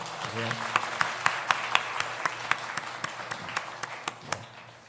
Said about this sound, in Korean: 우리 환영하면서 박수 한번 해주십시오